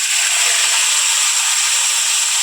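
Saffron-marinated meat hitting hot oil in a kadai, giving a steady, bright hiss of sizzling that holds evenly and loudly throughout, with no voices.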